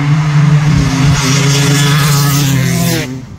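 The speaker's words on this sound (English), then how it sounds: "Nothing but wide open two-stroke action." A 500cc two-stroke dirt bike engine screams wide open at close range, a loud sustained high-revving buzz that climbs in pitch before cutting off near the end.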